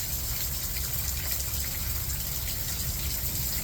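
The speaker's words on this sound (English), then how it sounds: "it's not terribly raining too hard right now" Rain falls steadily onto and around a building under construction, a dense continuous hiss with water gushing, constant and fairly loud.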